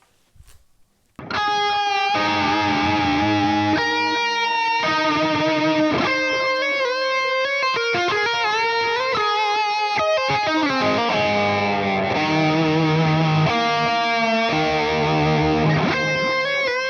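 An electric guitar plays through a high-gain amp boosted by a Maxon overdrive with delay added, chorus and reverb off, using a Boss IR-2, giving loud, saturated distorted notes and chords in a continuous riffing passage with trailing echoes.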